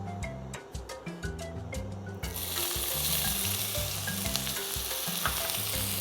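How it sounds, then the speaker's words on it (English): Onions hit hot sesame oil in a pan and sizzle, a loud steady crackling hiss that rises suddenly after a couple of seconds and carries on alone, up close. "we're going to put a little oil, sesame oil. We're going to fry our onions"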